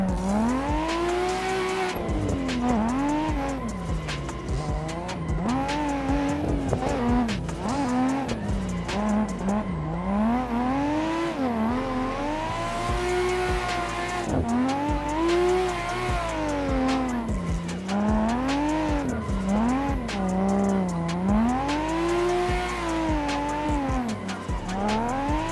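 Cars drifting in the racing game Assetto Corsa keep up a loud, continuous tire squeal over engines revving up and down in waves, a tandem drift sustained for the whole stretch without talk.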